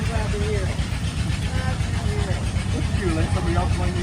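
An antique engine runs steadily at a historical engineers' show, with a low, rumbling chug under people chatting close by.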